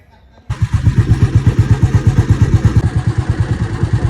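A motorcycle engine starts up after a brief quiet moment and runs with a steady, rapid pulsing beat, loud and close, riding out toward a field for wheat sowing in rural Punjab.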